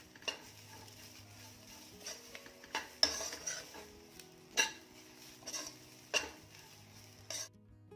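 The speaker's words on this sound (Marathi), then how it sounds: "आता यामध्ये कोथिंबीर टाकायची आहे आणि ही देखील परतून घ्यायची आहे" Coriander being stir-fried with roasted coconut in a pan for a Malvani egg curry masala, quiet sizzling under a series of distinct spoon scrapes and clinks against the pan, spaced about a second apart.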